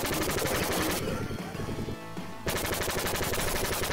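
Rapid automatic weapon fire in an arcade shooting game, dense repeated bursts that fill the scene, pausing for about a second and a half before resuming at full intensity.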